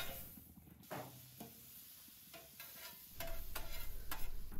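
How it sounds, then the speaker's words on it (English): Butter melting over medium heat on a hot griddle, giving a quiet, steady sizzle broken by a few soft scrapes and taps, with the frying growing a little busier toward the end. "fire up the griddle in the medium heat and melt the butter and spread them over the cooking surface"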